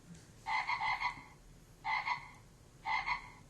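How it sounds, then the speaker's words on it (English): Frog-croak ringtone on a BlackBerry phone sounding three times, each burst a quick run of rattling croaks, clear and close over a quiet room. "But I've got a frog on my BlackBerry."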